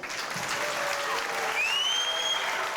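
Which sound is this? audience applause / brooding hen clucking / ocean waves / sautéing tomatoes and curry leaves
audience applause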